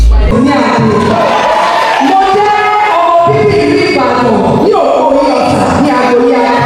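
A pageant crowd at the Miss Ibadan 2026 crowning ceremony roars in a loud, dense, continuous wash of cheering and shouting that fills the whole stretch without pause.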